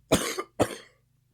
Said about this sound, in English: I have been coughing.